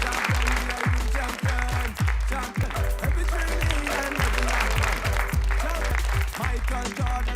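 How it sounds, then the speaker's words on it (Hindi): Applause from the audience at an education and welfare trust's prize distribution ceremony, steady clapping blended with tonal music and voices throughout. "तो एक बार जोरदार ताली होनी चाहिए सबके लिए"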